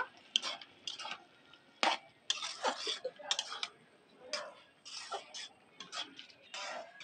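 A spatula stirs papaya chutney with cashews and raisins in a pan, giving faint, intermittent scraping strokes in short irregular bursts with quiet gaps between them.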